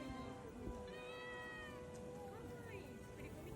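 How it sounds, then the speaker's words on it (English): A cat meows a few times near a cave in Japan, its rising, drawn-out calls fairly close over a steady background hum, with faint voices in the distance. "The cats are supposed to be very friendly to strangers around here."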